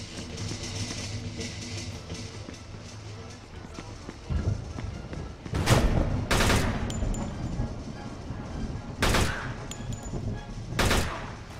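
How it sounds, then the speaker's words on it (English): Bursts of grease gun submachine gun fire in Mafia 2, several short rapid volleys spaced across the stretch over steady game ambience, loud and close, with someone talking at times. "let's try the grease gun for a little while"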